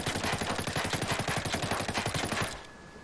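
A suppressed FAL rifle fires full auto in Ghost Recon Breakpoint: a fast, steady string of muffled shots runs for about two and a half seconds, then stops abruptly and leaves a faint lingering tone.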